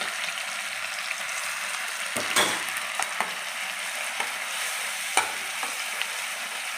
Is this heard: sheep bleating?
no